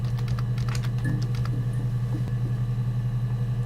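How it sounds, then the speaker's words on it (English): Keys tapped in a quick, light run while typing a search word into the video game Her Story, set against a steady low hum, with clicks clustered early and thinning out. "What I do want to do here, though, is type in drinking"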